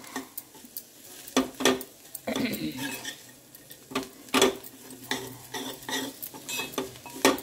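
Soya chunk curry with salt and chilli powder fries in a pan as a spoon scrapes and knocks against the metal in repeated strokes over a light background sizzle, all close up.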